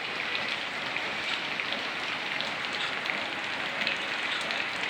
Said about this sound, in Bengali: আপনারা দেখতে পাচ্ছেন কিভাবে বৃষ্টি পড়ছে